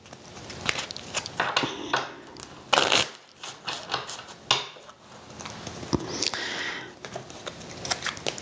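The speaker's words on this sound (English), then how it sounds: "These tiny little cards are just a little bit difficult to shuffle." Small tarot cards are shuffled by hand close by, giving irregular crisp riffling rustles and light taps that come in uneven bursts over several seconds, with no talk over them.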